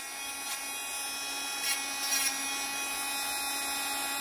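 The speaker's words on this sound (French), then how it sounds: "après avoir passé la ponceuse" An electric nail sander files fingernails near the cuticle, a thin, steady high whine with a few brief louder bursts as the bit presses on the nail, fairly quiet.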